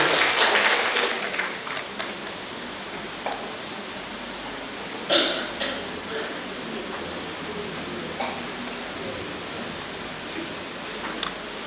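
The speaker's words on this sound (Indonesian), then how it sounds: "Boleh berikan tepuk tangan yang luar biasa menyambut kehadiran beliau di podium" An audience claps to welcome a speaker to the podium at an inauguration ceremony for Bunda PAUD in the Jombang district. A burst of applause opens and quickly thins into scattered claps and coughs in a large room.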